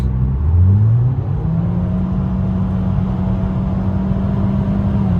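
A Nissan Altima pulls away hard under aggressive driving, its engine note rising steadily as it accelerates and then holding a steady drone with road rumble from inside the cabin.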